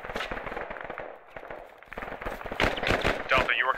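Gunfire in the Arma 3 military shooter, repeated sharp rifle and machine-gun cracks in uneven bursts, some close and loud, others farther off, with faint radio-style voices talking under the shots.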